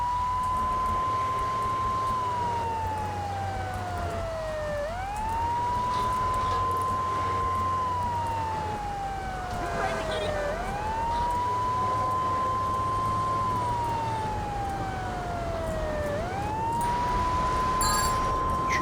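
A fire truck siren in GTA 3 wails, sweeping slowly up and down in repeating cycles, loud and continuous, with no talking over it.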